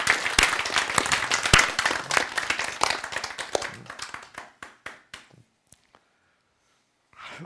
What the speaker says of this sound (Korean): 박수 쳐야죠.